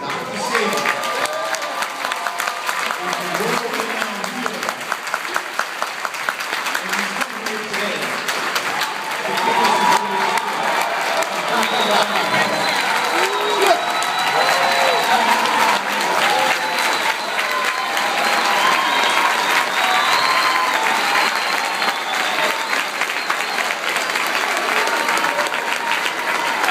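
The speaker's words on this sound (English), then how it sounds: "Let's give him one more round of applause" Sustained applause from a live audience in Brooklyn for Dr. Sebi, dense clapping mixed with some crowd noise and cheering, steady and full throughout and building slightly partway through.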